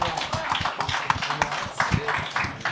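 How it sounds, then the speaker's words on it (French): Live audience at a French-language anniversary talk show clapping vigorously, dense crowd applause with sharp hand claps sustained throughout. "Bonne main d'applaudissements pour Alain Lavoie"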